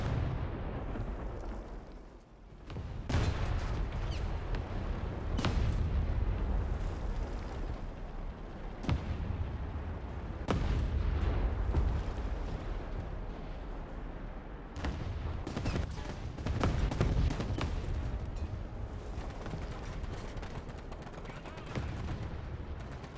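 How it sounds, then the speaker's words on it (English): Artillery barrage in a tank battle video game, with heavy booming impacts and rumbling gunfire bursts recurring over a sustained low roar of engine and battle noise, loud and close throughout. "Also had to move back a bit to avoid an artillery barrage."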